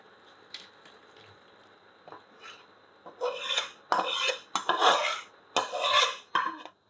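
A ladle scrapes and clinks against a cooking pan while serving split pea lentil fritter curry gravy. A few faint taps are followed by a loud, close run of repeated scraping strokes.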